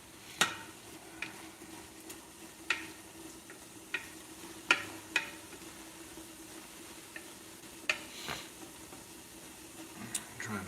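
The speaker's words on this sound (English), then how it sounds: "I'm starting to hear all that beer sizzle at the bottom" Beer sizzles at the bottom of a pot of camp stew, a faint steady crackle and hiss with scattered sharp pops and clicks over about ten seconds.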